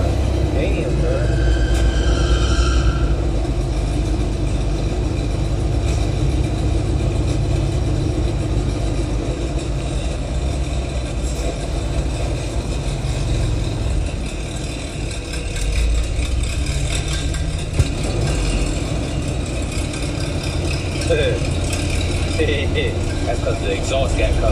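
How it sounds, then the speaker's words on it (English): A truck's engine idles steadily with its exhaust cut off, giving a loud, rough, continuous rumble throughout, while people talk nearby. "That's what you're hearing, that exhaust cut off."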